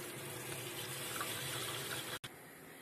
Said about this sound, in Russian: Сейчас вот налью водички здесь,